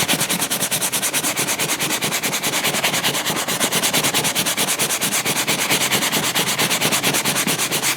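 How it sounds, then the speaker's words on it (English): Brush scrubbing retail degreaser into greasy grime on a surface, a fast, even back-and-forth rasping rhythm repeating loudly and close throughout with no talking. "And I'll just simply take my brush,"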